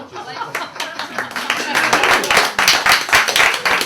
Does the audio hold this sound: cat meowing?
no